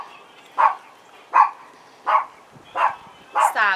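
A puppy gives a series of five sharp, high barks at a steady rhythm, close and fairly loud. The last bark runs into a short whine.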